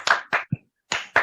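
Hand clapping during an online children's sing-along in a church kids' session, a few sharp close claps in quick pairs with a brief pause between, plus a soft tap.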